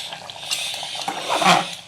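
A cooking pot's lid comes off and potatoes nearly done boiling are stirred inside it: close, soft watery sloshing and bubbling, with a brief louder swirl near the end and no voices.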